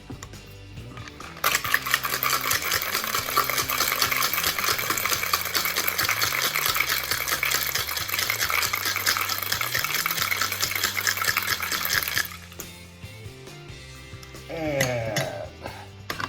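Ice and egg white rattle hard inside a cocktail shaker for a Clover Club, a steady rapid clatter close by that runs for about eleven seconds before stopping, followed by lighter clinks.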